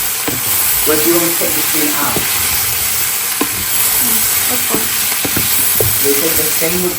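Vegetables fry loudly in a hot pan while being stirred, a constant close sizzle and hiss with occasional scraping, as people talk over it.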